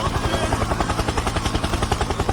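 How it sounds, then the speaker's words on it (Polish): A helicopter's rotor beats in a fast, steady thudding rhythm, loud and close, with a broad engine whine running underneath. "Helikopter, helikopter!"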